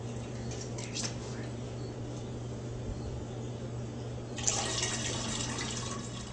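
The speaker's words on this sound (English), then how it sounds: "I'm just going to top it off with regular tap water." Tap water runs steadily into a wine fermenting jug, a soft continuous hiss over a low hum, growing brighter and splashier near the end as the jug is topped off.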